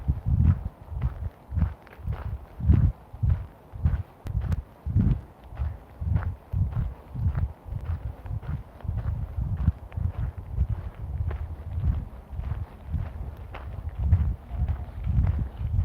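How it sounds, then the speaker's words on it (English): Footsteps wading through a stream, a steady run of heavy low splashing thuds one after another, close and continuous under rushing water, with no talk over them. "can you hear my footsteps when I'm walking"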